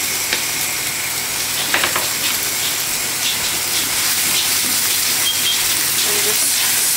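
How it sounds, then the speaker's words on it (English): Rice noodles cook in a hot wok with the other ingredients, giving a steady loud sizzle and hiss with scattered crackles and a few faint clinks throughout. "We're going to add the rice noodles"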